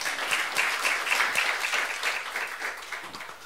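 Applause from a congregation at a church youth worship service, a steady wash of many hands clapping at moderate volume that fades slightly toward the end.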